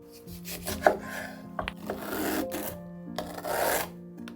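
A knife slices through grapefruit, orange and lemon while making citrus and ginger tea: close, rasping cuts that come in several uneven bursts over a soft, steady tonal background.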